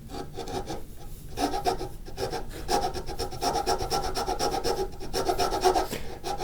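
A hand file rasps steadily across a wooden board being shaped for a scarf joint, close up. The strokes come in an even, continuous rhythm of rough scraping with no talk over them.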